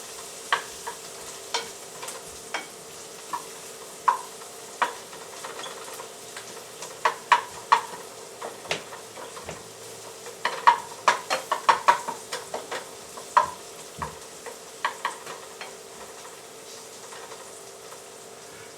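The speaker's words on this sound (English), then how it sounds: "Now, stir this up. It's doing pretty well on medium heat." Turkey pasta frying in a pan on medium heat while being stirred, with a steady soft sizzle and repeated sharp clicks and scrapes of the utensil against the pan, close and moderately quiet.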